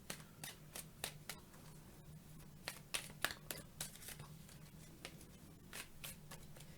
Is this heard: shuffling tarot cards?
yes